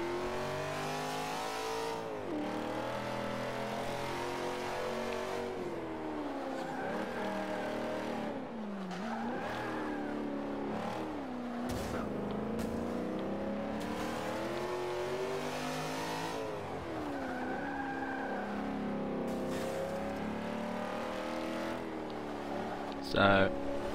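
A VW Beetle fitted with a 5.7L V8 in Forza Motorsport 5 revs and races, its engine note rising and falling through repeated sweeps with tire squeal, loud and continuous, while a voice talks over it.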